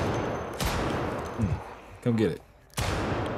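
Gunfire from a firearm in the zombie survival game Project Zomboid, with a few loud broadband shots spaced apart, each followed by a short tail, and someone speaking briefly between them.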